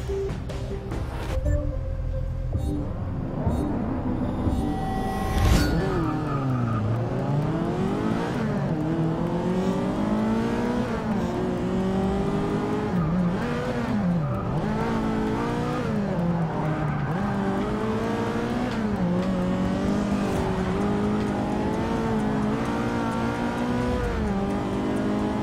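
A race car engine in Forza Motorsport 6, revving loudly up and down through gear changes with rising and falling pitch sweeps and occasional tire squeal, continuous and close for the whole stretch.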